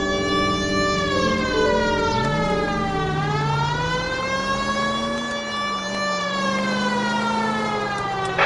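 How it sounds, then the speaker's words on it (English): Police car siren in the L.A. Noire video game, a loud continuous wail rising and falling steadily over a low engine drone throughout, with no talk. "Don't put the siren on, you idiot!"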